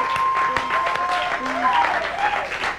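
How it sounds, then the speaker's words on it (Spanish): An audience applauds at a televised 1999 VJ contest show, with a short burst of clapping mixed with a loud, excited host's voice and some tonal music. "¡fuerte el aplauso!"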